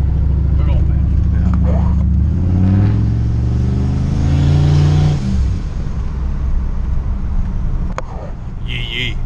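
A Mustang fitted with an LS engine revs at half throttle, its drone rising and then cutting out as the fuel tank sucks air, with a person talking loudly over it.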